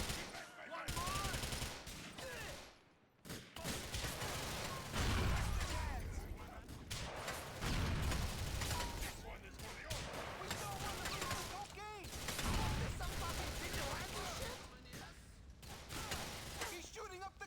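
Rapid gunfire bursts in GTA IV during a community race, dense and continuous through the whole stretch, with shouting voices talking over the shots.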